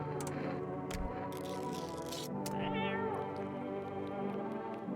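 A cat in a video game meows and caterwauls repeatedly over steady game music, loud and close.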